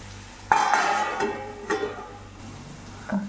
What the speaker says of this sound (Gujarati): હવે મિક્સ કરીને 2 મિનિટ ચરવા દઈશું.